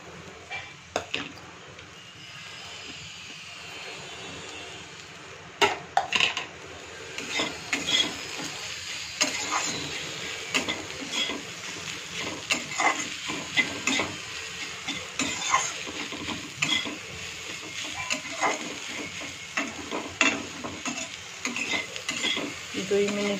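Green chili and onion for veg momo filling fry in a pan, a soft steady sizzle broken by repeated scraping and knocking strokes of a spoon against the metal, close and uneven in rhythm.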